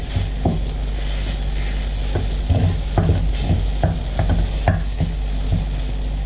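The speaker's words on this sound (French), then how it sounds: "Et je mélange de nouveau." A cooked potato and paneer filling is stirred in a pan, with repeated scraping strokes and soft knocks of the spoon over a steady low sizzle, close and loud, no talking.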